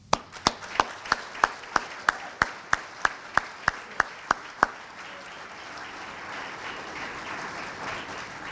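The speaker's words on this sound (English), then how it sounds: "I think they deserve a loud round of applause." A small audience at a civics day event claps in a loose, quick run of about a dozen distinct claps, then fades into a soft, sustained patter of scattered applause.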